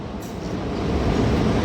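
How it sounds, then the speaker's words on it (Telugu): A MEMU local train pulls into a station on the Hyderabad–Vijayawada route, its low rumble building steadily and close by, with no voices. "మన ట్రైన్ అయితే వచ్చేసింది"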